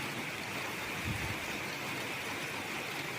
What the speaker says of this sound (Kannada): ಅದಾದ ನಂತರ ಸಿಕ್ಕಾಪಟ್ಟೆ ಮಳೆ.